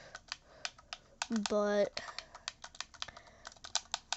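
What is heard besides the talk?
typing on a Nintendo Switch controller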